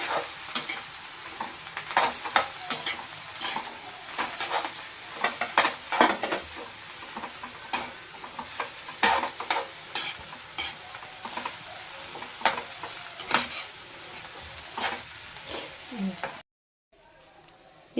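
Dwarf copper leaf and toor dal mixture sizzles in a pan while a utensil scrapes and stirs in repeated strokes, loud and close, ending in a brief silence.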